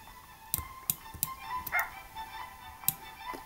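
In the video game Grow a Garden, a dog gives several short, sharp barks spread across a few seconds. They are fairly faint, with scattered clicks between them.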